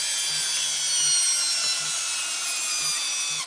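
A steady, high-pitched whine of a cordless drill running continuously while drilling holes for a hog feeder, close and loud, with faint clicks underneath before it winds down as the battery runs low.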